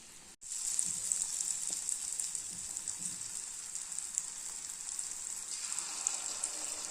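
Toor dal kachaayam frying gently in oil on a low flame, a steady soft sizzle with fine crackling that runs continuously, quiet and close.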